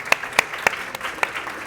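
A handful of sharp, separate claps at a medical panel event, a few scattered hand strikes spaced irregularly rather than full applause, fairly quiet in an indoor hall.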